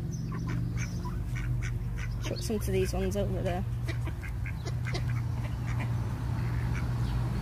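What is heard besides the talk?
ducks quacking at a canal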